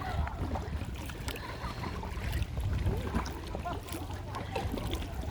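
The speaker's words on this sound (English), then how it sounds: "We paddle all the way to the island" Water sloshing and splashing from paddle strokes on an Intex Tacoma inflatable kayak, with gusts of wind buffeting the microphone.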